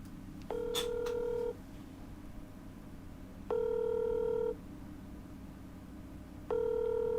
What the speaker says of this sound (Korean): 지금 문갑식 주필에게 전화를 지금 하는데요